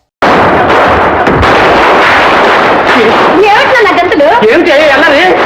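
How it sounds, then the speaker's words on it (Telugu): Diwali firecrackers burst in a Telugu comedy film scene, a loud steady crackle and bang filling the whole stretch with voices speaking over the later part. "దీపావళి కదా, టపాకాయలు కాల్చిపోతే ఎలా?"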